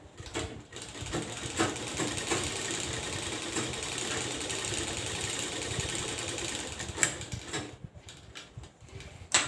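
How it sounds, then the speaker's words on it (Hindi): Sewing machine stitching a blouse shoulder seam, a close, steady whirring hum that runs almost continuously and stops briefly near the end. "शोल्डर जॉइन करने का टाइम आप 2-2 सिलाई मार दीजिएगा, एक बार में पक्का हो जाएगा।"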